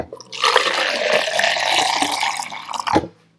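Water pours steadily into a cup for making buttermilk, a continuous close splashing and gurgling stream lasting about three seconds before it stops abruptly.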